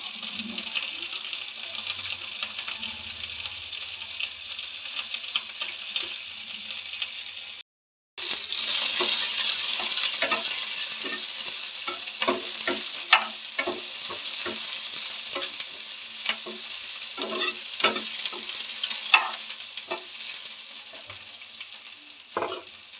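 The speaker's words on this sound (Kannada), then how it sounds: "ಬ್ರೌನ್ ಕಲರ್ ಬರೋವರೆಗೂ ಹುರ್ಕೋಬೇಕಿದು ಟೊಮೊಟೊ" Tomato fries with garlic, cinnamon and cloves in a pan for chicken sambar, a steady hissing sizzle broken by frequent clicking scrapes of a stirring spoon, with a brief gap of silence early on.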